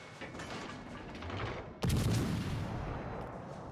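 Warship gunfire in World of Warships Legends, a sudden loud boom partway through over a steady rumbling game soundscape, followed by a sustained low roar.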